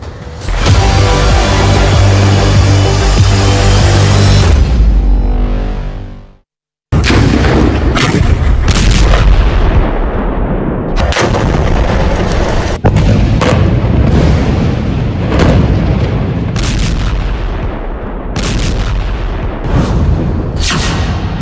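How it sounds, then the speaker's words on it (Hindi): Heavy explosions and bombing roar continuously, loud deep booms and crackling blasts piling over one another, broken by a brief silent gap before another dense stretch of rumbling detonations and sharp cracks. "ये धमाके तो बहुत छोटे हैं"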